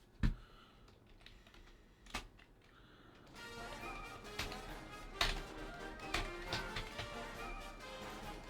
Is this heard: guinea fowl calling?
no